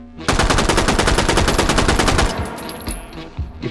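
A World War II submachine gun in the H3VR virtual reality game fires one loud, sustained automatic burst at a steady, moderate rate for about two seconds, followed by fading echoes.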